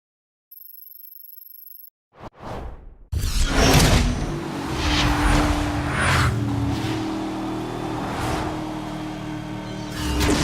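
A Bugatti Veyron in the racing game Need for Speed Hot Pursuit roars up to speed after a brief silence and a couple of quick whooshes, its loud engine note sustained and climbing with steady road noise.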